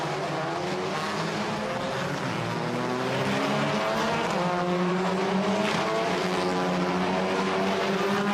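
World Touring Car Cup race cars pull away from the start at Zandvoort in the Netherlands on a sunny afternoon, a dense, loud, continuous roar of several engines climbing in pitch together.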